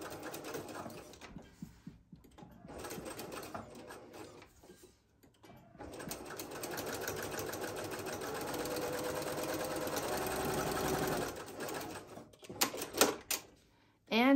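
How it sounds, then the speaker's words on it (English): A sewing machine topstitches along a fabric tote handle in a few bursts: short stitching runs at first, then a long steady whir lasting several seconds before it stops, close and fairly quiet. "top stitch on the open edge and then back up the other side"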